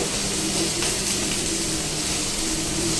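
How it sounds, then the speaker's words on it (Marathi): Onion roasting in oil until brown, a continuous soft hiss and bubbling sizzle, close and even, with no talking. "कांदा आपल्याला ब्राऊन कलर होईपर्यंत व्यवस्थित भाजून घ्यायचा"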